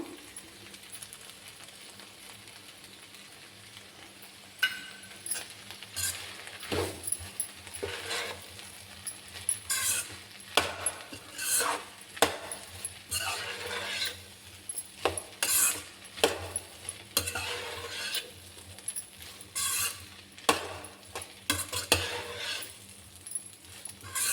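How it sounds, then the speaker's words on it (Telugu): Okra pieces frying in a pan on low heat with chili powder, faint sizzling under irregular scraping and clinking of a spoon stirring against the pan, intermittent strokes spread throughout, no speech. "అలా సిమ్లో పెట్టుకొని వేపుకోవాలి"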